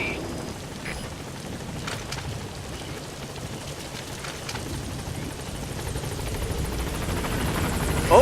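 Steady rain hissing across the ground in Metal Gear Solid V: The Phantom Pain, a dense even wash with faint low rumble beneath, swelling slightly toward the end, no voices.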